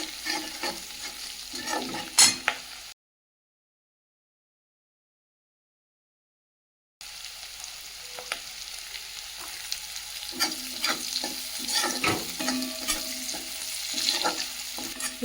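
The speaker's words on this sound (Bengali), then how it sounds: "রসুন কুচি দিয়ে দিলাম, একটু ভেজে নিয়ে" Chopped garlic and green chilli frying in a pan, a steady close sizzle with scraping stirs, broken by a few seconds of silence before the frying resumes louder.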